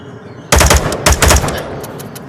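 Assault rifle in the VR game Onward fired in short, loud, close bursts of rapid shots, two or three quick bursts in a row with an echoing tail after each.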